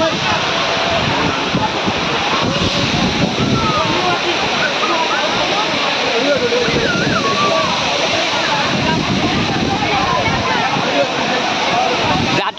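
Waterfall at Bhandardara flowing with low water, a steady broadband rush of falling water that holds throughout, loud and close, with faint voices and wind buffeting on the microphone.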